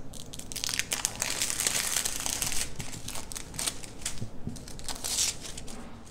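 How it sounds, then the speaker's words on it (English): Foil being peeled back off a printed Vans-style t-shirt gives a steady close run of crinkling and crackling, sustained throughout with small sharp peaks and no voices. "So I'm just gonna sit here and pull all of this foil back."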